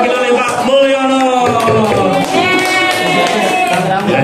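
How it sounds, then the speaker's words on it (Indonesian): A classroom group of students and a teacher applauds, a few seconds of mixed clapping under chatter and voices throughout. "tepuk tangan untuk kelompok tengkorak yang diwakili oleh Pak Mulyono."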